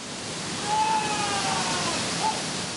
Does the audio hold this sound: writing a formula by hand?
no